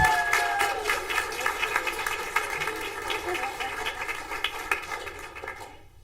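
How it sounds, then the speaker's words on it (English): Applause from an audience for students at a school board of education meeting, a steady patter of clapping that fills the room and fades out at the end. "One more round of applause for our Wilcox Rock students."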